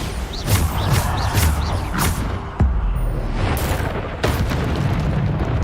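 Loud, dense blasts from the Bombarda spell in Hogwarts Legacy, with sharp booming impacts near 2.6 and 4.2 seconds over continuous rumbling battle noise and crackling bursts.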